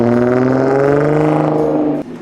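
A cheap Audi's engine catches and runs with a loud, close, steady buzzing hum that rises slightly, then drops off abruptly near the end.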